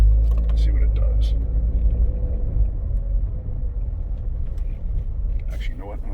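A car with an ABS warning light issue drives down the road, giving off a low, steady engine and road rumble while someone talks over it.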